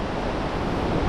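Steady, loud wind rushing across the microphone, a broad roaring noise with no voices, buffeting continuously for about a second.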